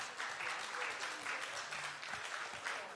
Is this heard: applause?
yes